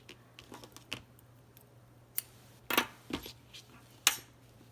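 Scissors snipping both yarn ends of a crocheted scarecrow hat, heard as a few sharp, close clicks and snips scattered over a quiet room with soft handling noises between them.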